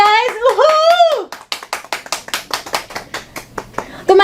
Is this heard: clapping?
yes